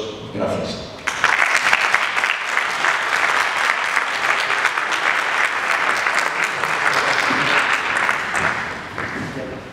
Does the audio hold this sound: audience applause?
yes